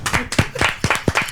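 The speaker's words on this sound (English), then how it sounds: "let's give Miles a round of applause." A small group's round of applause for Miles during a pub podcast, a short burst of about a dozen sharp, uneven hand claps close to the mic, without speech.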